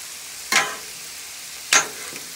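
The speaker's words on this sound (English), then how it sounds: "On this side, I'm just browning up some ground beef." Ground beef browning in oil in a skillet: a soft sizzle underlies two brief, distinct scraping stirs about a second apart, heard up close with no talking.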